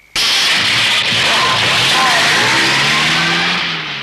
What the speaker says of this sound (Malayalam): എന്നാ വണ്ടി വിട്.